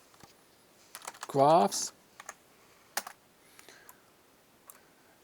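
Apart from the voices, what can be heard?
typing a folder name on a computer keyboard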